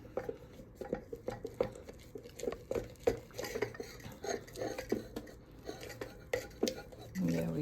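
Sourdough bread ingredients, including flour, being mixed in a bowl: soft irregular scraping, tapping and sticky stirring sounds repeat steadily at close range, quiet, with a faint murmured voice at times.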